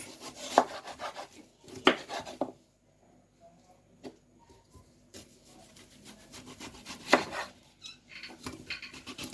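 A knife slices through a melon on a cutting board, giving a few sharp chopping strokes and rubbing cuts in short bursts with quiet pauses between them, heard up close with no talking.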